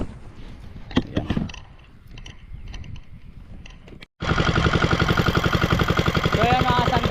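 Handling noises and a few knocks give way to an engine starting in a rice field, then running loudly with a rapid, steady chugging pulse close by; voices talk in the quieter opening part.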